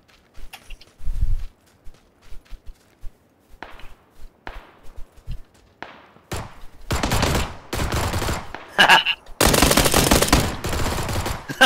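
PUBG gunfire with a Glock: a few scattered single shots and footsteps at first, then loud rapid bursts and sustained volleys close by, with no talking in between.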